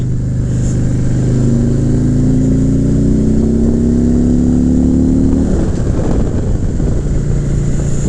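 A Suzuki Boulevard C50 motorcycle, one with a failing driveshaft, accelerates to pass a truck. Its engine note rises steadily through the gears under heavy road and wind roar, and then it settles into cruising.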